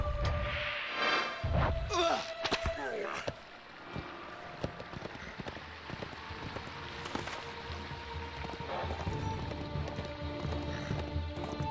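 Horse hooves clip-clop steadily while riding through Rohan in the Lord of the Rings Online video game, a continuous close trot over soft wind and ambient game sounds, with no talking.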